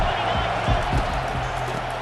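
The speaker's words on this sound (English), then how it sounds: "Big third down as the crowd gets behind this defense." A stadium crowd in EA Sports College Football 25 roars in a steady, dense wash before a third down, under a commentator's voice.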